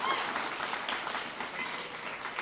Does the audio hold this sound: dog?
no